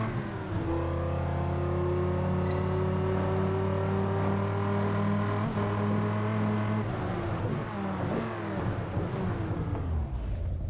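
An electric car in the racing game Test Drive Unlimited 2 plays a fake combustion engine note, a loud, steady tonal drone that climbs through rising pitch sweeps and shifts like a revving sports car.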